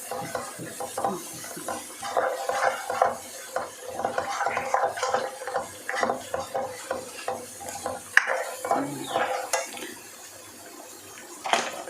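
Spices sautéed and stirred in a pan for fish curry, with irregular scraping and clinking of a utensil against the pan over a light sizzle, close and alone.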